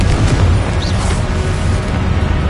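A loud, sustained explosive roar from the Confringo fire spell in Hogwarts Legacy, a dense broadband rumble lasting a couple of seconds with a heavy low-end boom.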